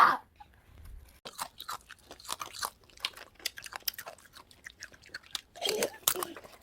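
Crisp, irregular crunches and bites of brittle dalgona (Korean honeycomb sugar candy) being eaten, close and fairly faint, scattered over about six seconds with quiet gaps between them.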